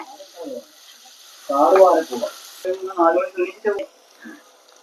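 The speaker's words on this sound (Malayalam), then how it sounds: "അപ്പം നമ്മൾ ചൂടായ എണ്ണയിലേക്ക് സവോള, പച്ചമുളക്, കറിവേപ്പിലയൊക്കെ ഇട്ടിട്ടുണ്ട്." Sliced onion, green chilli and curry leaves fry in hot oil for a crab curry, giving a faint, steady sizzling hiss that stops partway through while someone talks over it.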